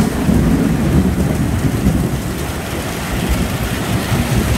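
A heavy thunderstorm roars steadily, with dense rain pouring down and low rumbling thunder throughout, loud and continuous with no voices.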